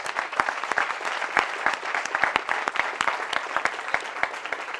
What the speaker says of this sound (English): give them a big round of applause and congratulations